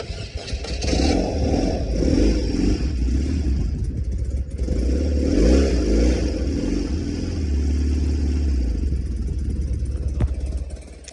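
A BMW R80G/S Paris Dakar flat-twin motorcycle, started with the choke on, settles into a steady, loud, close idle that runs throughout with a rhythmic low throb.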